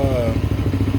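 Rattling bolts on a 2019 Tao Raptor 200cc ATV clatter over a loud running engine, a steady close metallic chatter throughout the short moment.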